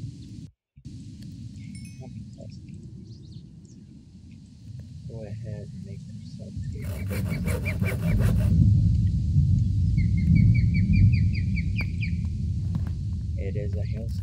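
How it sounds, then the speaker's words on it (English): Heavy hailstorm with rumbling thunder in Minecraft, a dense, constant low roar that swells louder through the second half, with brief clattering bursts and faint chirps over it. "It is a hailstorm."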